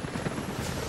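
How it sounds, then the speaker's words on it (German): Helicopter rotor in the video game Rise of the Tomb Raider, a steady close thudding chop with broad engine wash filling the whole short moment, no voices over it. "Jacob, Helikopter sind unterwegs zu..."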